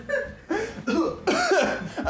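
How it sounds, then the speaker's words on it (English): A person coughs in several rough, close bursts, a few in a row with short gaps between them and some breathy, laugh-like sounds mixed in. "I'm still coughing."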